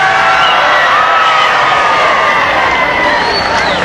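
A large outdoor crowd in Fort Worth, Texas, applauds and cheers President Kennedy on November 22, 1963, a loud, steady wash of massed clapping and voices that continues without a break.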